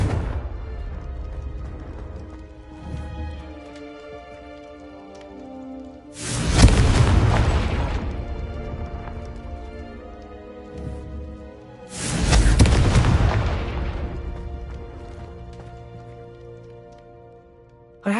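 In the Hogwarts Legacy video game, a Confringo spell explodes twice, each a sudden loud boom with a rushing blast that fades over a few seconds, against a quieter musical background.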